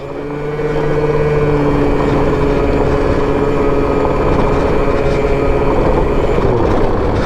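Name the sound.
Malaguti Phantom F12 Digit 50 LC scooter riding off-road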